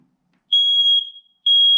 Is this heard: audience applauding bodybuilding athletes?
no